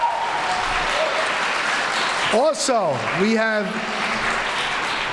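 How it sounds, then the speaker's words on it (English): An audience applauds at a school assembly, steady clapping running throughout while a voice speaks over it in the middle. "You give yourself a round of applause."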